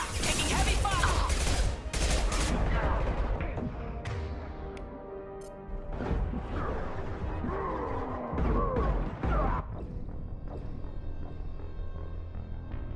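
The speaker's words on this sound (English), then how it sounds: "Taking heavy fire." Heavy gunfire in the Mass Effect 2 video game: dense bursts of shots and impacts in the opening seconds, then scattered blasts and crashes under game voices talking.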